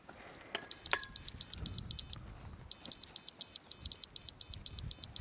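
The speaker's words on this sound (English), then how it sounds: "Solid beep means level, fast beep means down, slow beep means up." A laser level receiver used for setting carport footings and posts emits a rapid series of short, shrill electronic beeps in steady pulses, pausing briefly before the close, even beeping resumes, with faint handling noise underneath.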